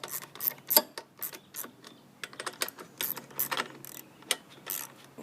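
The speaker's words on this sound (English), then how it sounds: "Continue with my 10mm bolts back and forth. Tighten them up evenly so it doesn't get cockeyed." A ratchet tightening 10mm bolts on a 2015 Husqvarna HU 700H mower, rapid clicking bursts back and forth, close and fairly loud, with short pauses between strokes.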